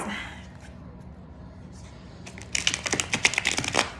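A deck of cards is riffle-shuffled near the end, a quick burst of rapid flapping clicks after a quiet stretch.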